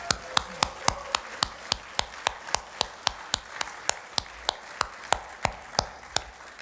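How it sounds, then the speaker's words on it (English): Slow, rhythmic clapping at a climate conference keynote, a steady series of sharp individual claps at regular intervals with a faint crowd murmur beneath. "How about another round of applause?"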